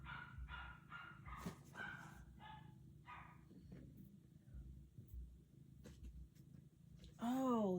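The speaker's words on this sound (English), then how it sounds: "my dog is still barking." Several distant barks from a dog come in a quick series, then fade into quieter rustling; a voice rises near the end.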